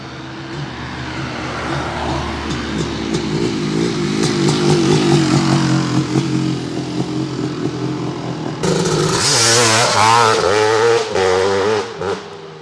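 Kawasaki KX500 works racing dirt bike two-stroke engine revving hard, a loud rising and falling blare that climbs to a sharp high-pitched scream in the final seconds, close and alone without talk.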